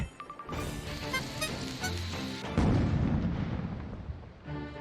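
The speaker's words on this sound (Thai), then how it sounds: "ระเบิดมาสวย" Explosion effect in the 123Boom slot video game from Relax Gaming, a loud booming burst with crackling debris layered over jingling game music and chimes, running continuously for several seconds.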